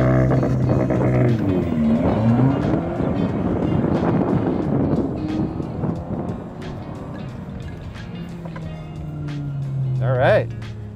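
An Audi B9 with adjustable launch control launches hard from a standstill, its engine climbing steeply in pitch as it accelerates, loud and close, with wind rush building along the way.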